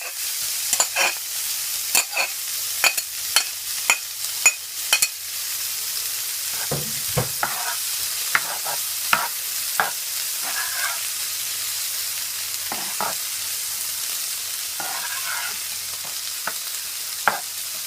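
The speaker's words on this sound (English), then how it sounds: "And you're gonna allow it to fry for at least 3 to 4 minutes." Mixed vegetables fry in a pan for shrimp fried rice, a steady close sizzle with repeated scraping and clacking stirs, busiest at the start and coming in scattered bursts afterward.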